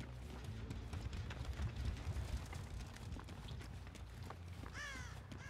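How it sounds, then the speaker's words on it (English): Crows caw in Dead by Daylight amid rumbling, busy game ambience with footsteps and movement noise; a brief, close caw stands out near the end. "crows are running over here"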